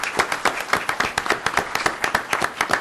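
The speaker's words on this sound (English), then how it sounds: "if you'll join me in a round of applause" An audience at an Angola Day event gives a short burst of brisk hand clapping, close and fairly loud, steady and unbroken throughout.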